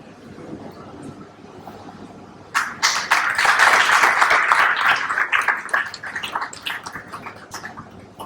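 Applause from the audience at the Unsung Everyday Heroes Awards 2026 ceremony, with dense, loud clapping that starts abruptly after a low murmur. It holds steady for several seconds, then gradually thins out.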